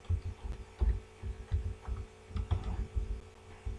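Soft, irregular keystrokes as a password is typed on a computer keyboard, faint clicks over a low rhythmic thumping hum.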